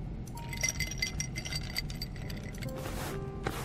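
Ice cubes in a kitchen in a dating video game, light glassy clinks and tinkles scattered over a faint steady background, small and delicate, with a brighter cluster near the end.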